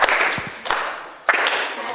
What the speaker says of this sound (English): could y'all just clap for me?